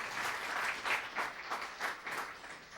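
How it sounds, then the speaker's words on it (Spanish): A church congregation breaks into applause during a sermon, a dense wash of many hands clapping with rising and falling swells, fairly close and without speech over it. "eso merece un aplauso al Rey"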